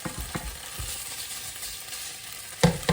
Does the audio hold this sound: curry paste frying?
yes